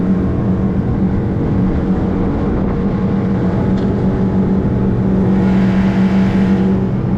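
A Yamaha F70 outboard drives a 1996 Seaswirl 172 boat at full throttle, around 5,500 rpm, with a loud, steady engine drone and rushing water, unbroken and close up.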